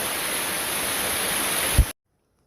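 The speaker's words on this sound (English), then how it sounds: "I run into this nice little bridge and this pretty little waterfall up here." A small waterfall beside a bridge on a cloudy, drizzly day gives off a steady, close broadband rush that holds even throughout, then a brief low thump just before it cuts off abruptly.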